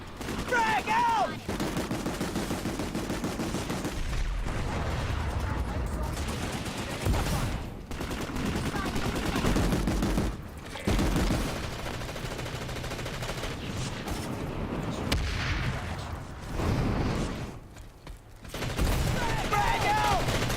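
Grenade blasts and dense gunfire from a PlayStation 2 first-person shooter, with steady bursts of shots and loud booms continuing almost without pause over about twenty seconds, a voice talking over the combat at times.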